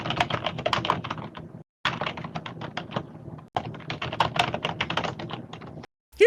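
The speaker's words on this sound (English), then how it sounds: "Here I have to listen to Sausage Fingers over here, smacking away at his keyboard" Fast, heavy keystrokes hammered on a computer keyboard over an open game mic during Evil Dead: The Game, close and loud in dense bursts with a few brief silent gaps.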